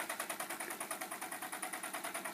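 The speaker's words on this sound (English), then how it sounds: "There's a stirling engine, but it's a beam, you know, a little beam engine." A small homemade beam Stirling engine copied from a Grizzly kit runs steadily, its quick, even mechanical ticking repeating about eight times a second, close and fairly quiet, with no voices.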